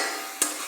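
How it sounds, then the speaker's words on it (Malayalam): Mustard seeds fry in hot oil with curry leaves for a tender jackfruit thoran. A soft, steady sizzle carries one sharp sputtering pop. "കടുക് വറക്കുമ്പോൾ"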